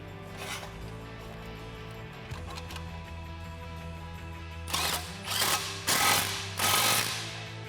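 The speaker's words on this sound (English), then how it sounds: "we can tighten those down with the same 15mm socket" A ratchet with a 15mm socket tightens a 2.5-inch exhaust clamp on a Jeep Wrangler JK axle-back exhaust, several close bursts of rapid clicking over a faint steady background hum.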